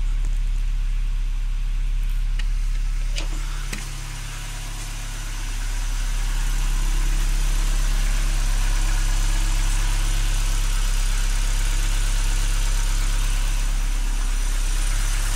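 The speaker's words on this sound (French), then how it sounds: "Voilà, moteur démarré," A Nissan Micra K12 car engine idles steadily after starting, with a low, even hum and slight vibration, a brief dip in the first seconds before settling into a constant drone.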